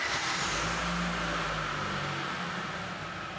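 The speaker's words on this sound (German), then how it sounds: "Nun wird der Motor gestartet und im Leerlauf laufen gelassen." A car engine idles steadily after being started for a cylinder-efficiency test, giving a continuous low hum with a constant broadband hiss throughout, with no revving.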